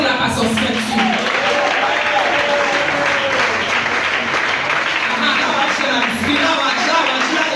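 Church congregation applauding at a Wednesday assembly, a dense steady wash of many hands clapping throughout, with voices and shouts mixed in under the clapping.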